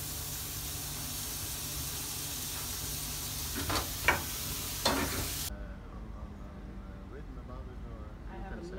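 Food frying in plenty of butter at a chefs' cooking event in Skjern gives a steady close sizzle with a few clinks of stirring, then cuts off to a quieter room with murmured voices.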